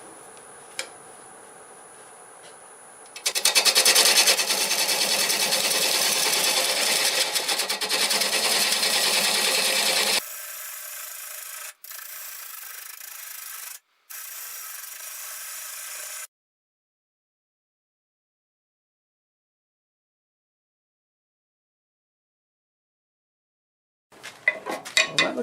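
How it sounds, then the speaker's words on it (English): A wood lathe spins juniper while a 3/8 bowl gouge cuts it, a loud steady scraping whir that runs for several seconds, drops to a lighter cutting tone, then stops into silence. "we'll start out with a 3/8 bowl gouge and cut most of it away"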